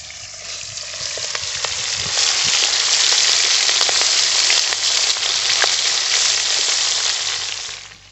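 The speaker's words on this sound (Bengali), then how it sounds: "এবার এই চিংড়ি মাছগুলো যে ম্যারিনেট করে রেখে দিয়েছিলাম এগুলো ভেজে নেব।" Marinated shrimp hit hot oil and fry with a loud, continuous crackling sizzle that swells after a couple of seconds, holds steady, then fades at the close, heard near and without talk.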